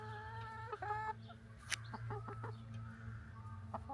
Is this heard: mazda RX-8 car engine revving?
no